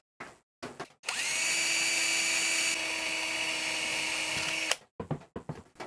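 A small power drill with a 2 mm bit whines in one steady, high-pitched run lasting several seconds, close up, with brief handling noises before and after, during a guitar build.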